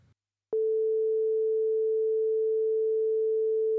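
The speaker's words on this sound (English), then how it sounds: "so we only hear a single sine wave." A single pure sine wave tone from a Yamaha DX7 FM synthesizer starts abruptly and holds at constant pitch and loudness, smooth and unwavering.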